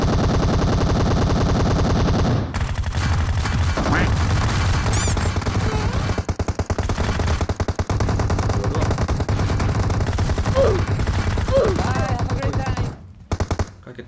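Rapid bursts of automatic gunfire in PUBG Mobile rattle almost without pause, loud and close, with voices talking over the shooting.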